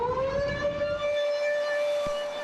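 A tornado siren wails steadily with a rising then sustained pitch, loud and continuous with harmonic overtones, filling the whole clip.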